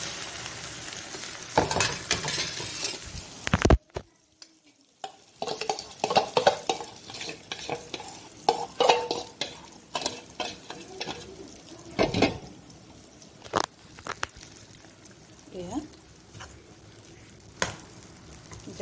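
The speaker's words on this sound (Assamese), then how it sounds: "এতিয়া মই কেৰাহীত তেল গৰম কৰি লৈছো তেলখিনি গৰম হৈ গ'ল কেৰাহীখিনিত মই এতিয়া এইখিনি ঢালি দিম" Jackfruit seed pickle mixture frying in hot oil in a kadai over a low gas flame, a close sizzle broken by repeated sharp scrapes and clinks of a stirring spoon against the pan, with faint birdsong behind.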